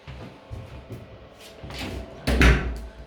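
A door being opened and closed during a move-in inspection of a rental property, heard as a few soft knocks and rattles followed by a louder, close thud near the end.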